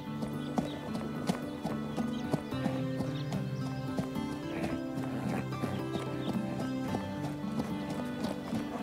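Horse trotting in a riding lesson, hooves clip-clopping in a steady brisk rhythm under continuous background music, close and moderately loud.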